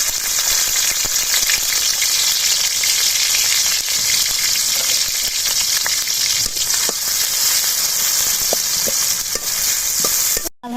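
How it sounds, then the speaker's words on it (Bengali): Onions fry in hot oil in a wok for beef curry with potatoes, a loud steady sizzle with occasional clicks of stirring throughout, ending abruptly. "মাংসের তরকারি তেলানি দেওয়ার জন্য আমি কড়াইয়ে তেল দিয়ে দিচ্ছি"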